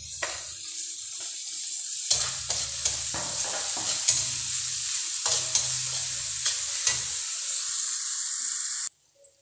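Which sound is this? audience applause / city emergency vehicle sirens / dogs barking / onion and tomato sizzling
onion and tomato sizzling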